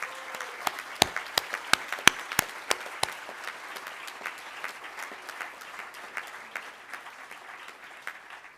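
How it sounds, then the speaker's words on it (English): An audience applauds students at a 2022 NSC awards ceremony: moderate, even clapping with several sharp, close individual claps early on, continuing softly throughout. "Let's give our students a big round of applause."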